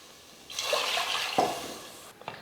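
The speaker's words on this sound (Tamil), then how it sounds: "அரை கப் பாசிப்பருப்புக்கு நான் 2 கப் அளவுக்கு தண்ணி சேர்த்துக்கிறேன்." Two cups of water splash and gush onto half a cup of roasted moong dal for rava pongal, a steady pour lasting about two seconds, with a brief drip-like splash at the end.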